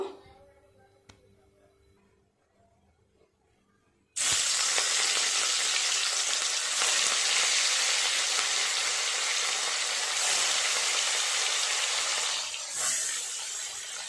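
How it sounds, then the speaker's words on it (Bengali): Bhetki fish pieces dropped into hot oil: after a quiet start, a sudden loud, close sizzle bursts in and holds steady as a continuous hiss of frying until the end. "তেল গরম হয়ে গেছে, মাছগুলো দিয়ে দেব।"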